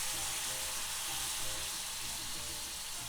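Poblano pepper strips frying in a pan while being stirred continuously, a soft, even sizzle with faint scraping, quiet and steady throughout.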